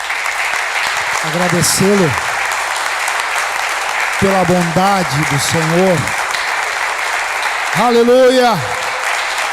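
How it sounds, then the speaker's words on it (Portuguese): A church congregation applauds during an evening service, a steady wash of clapping running the whole time beneath a preacher's loud, emphatic speech. "Você quer aplaudir Jesus nessa noite?"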